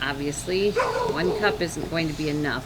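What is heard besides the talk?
dog barking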